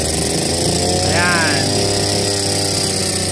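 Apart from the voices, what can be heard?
grass cutter with trimmer attachment running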